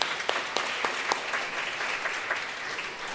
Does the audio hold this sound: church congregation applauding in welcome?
yes